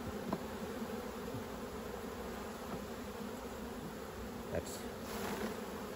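Bees buzz steadily at an open hive in the Orara Valley, Nana Glen, during a hive inspection for chalkbrood; a continuous, fairly quiet drone with a few brief louder bumps and no talking.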